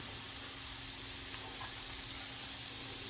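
Mushrooms sizzling in olive oil in a hot pan while making a healthy turkey meatloaf, a steady soft frying hiss running throughout with no voices.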